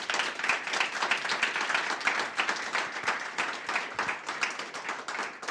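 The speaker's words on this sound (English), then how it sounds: "we'd just like to do one final round of applause for our guests." Audience at a free masterclass on managing teams in the GenAI era applauding guests, a dense, even patter of many hands clapping continuously at close range.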